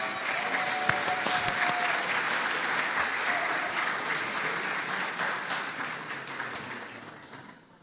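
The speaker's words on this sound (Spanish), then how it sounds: "Y les damos un aplauso." A church congregation in La Serena applauds visiting members from the Antofagasta church, sustained even clapping at moderate distance that slowly fades toward the end.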